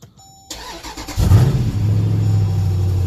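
New car's engine cranking and catching close by: a brief starter whir, a loud surge as it fires and revs up, then settling into a steady idle.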